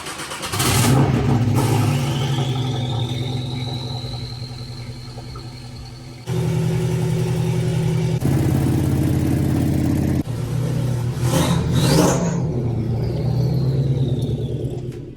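A Porsche Boxster's engine cranks and fires up, then revs in several rising bursts with idle between them while the car is moved in a home garage, loud and close with no talking.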